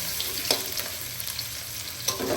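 Garlic and onion sauté in a pan for a creamy spaghetti, a steady close sizzle with a couple of brief stirring scrapes, no talking.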